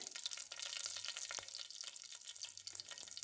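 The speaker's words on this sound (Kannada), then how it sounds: "ಸಾಸಿವೆ ಸಿಡಿದ ನಂತರ ಕರಿಬೇವಿನ ಸೊಪ್ಪು ಕೂಡ ಹಾಕ್ಕೊಂಡೆ" Mustard seeds and curry leaves sizzle in hot oil inside a pressure cooker, a quiet, steady crackle dotted with small sharp pops and spits throughout.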